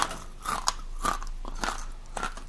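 Hot, freshly roasted salt and vinegar chickpeas crunch loudly as they are bitten and chewed, in a run of about four crisp, crackling bursts close to the mouth.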